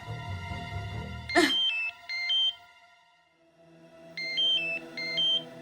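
A phone's melodic ringtone plays in short bursts of rising and falling tones, starting abruptly after a brief low rumble, pausing, then repeating clearly and alone at moderate volume.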